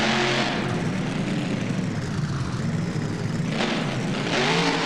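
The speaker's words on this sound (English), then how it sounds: "Listen to the sound of that truck." A Max D monster truck engine in the BeamNG video game, freestyling in Las Vegas's Allegiant Stadium, roars loud and continuous with rising and falling revs and no talking.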